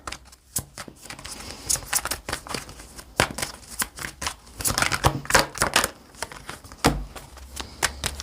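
Tarot cards shuffled and drawn up close, a run of quick crisp riffles, snaps and slaps in irregular bursts, with no talking.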